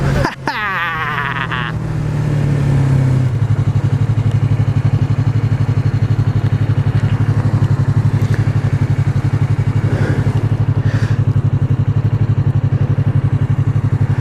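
A Yamaha R3 motorcycle revs briefly, then settles into a loud, steady, buzzing engine drone while riding, heard close with constant wind and road noise.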